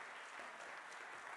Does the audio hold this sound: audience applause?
yes